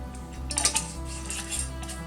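A jar of homemade salt-free seasoning mix shaken by hand, giving a brief burst of rattling, clinking grains against glass or metal, close and fairly soft over a faint steady hum.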